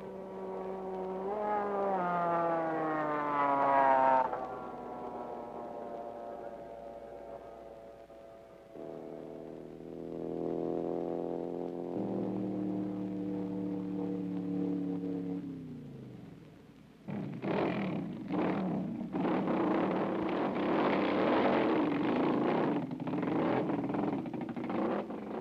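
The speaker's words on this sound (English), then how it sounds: "a number of streamliners are here, trying to set a new motorcycle world land speed record" A high-revving streamliner motorcycle racing engine whines through several rising gear pulls at the 1970 Bonneville Nationals, its pitch climbing then dropping, ending in a harsh, roaring blast of acceleration.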